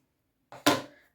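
Scissors make one short, crisp snip into fabric lining, a single brief cut heard close and alone in a quiet room.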